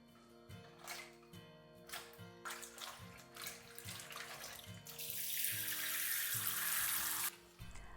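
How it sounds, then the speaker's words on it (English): Running tap water splashes over vegetables in a sink, with intermittent rinsing and handling sounds, then a fuller steady gush before it cuts off. "I have now washed all the veggies properly"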